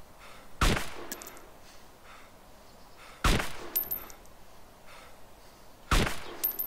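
Three sharp, loud MP5 gunshot bursts in a video game, spaced a few seconds apart, each followed by a short metallic ringing tail, with quiet ambience between them.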